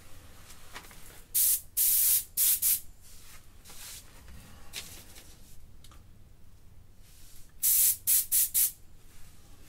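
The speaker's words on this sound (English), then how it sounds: "Looks to be a nice spray pattern." Short bursts of airbrush spraying paint hiss in quick pulses, a cluster of three or four, a quiet gap, then another similar cluster.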